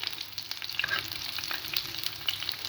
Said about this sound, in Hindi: देखिए कितने कम ऑयल में ये फ्राई हो रही है